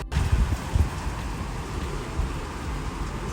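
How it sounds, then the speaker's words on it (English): Steady rain falls in hot Texas weather, a dense, even hiss with no voices, loud and continuous throughout. "It's 106 degrees and it's raining."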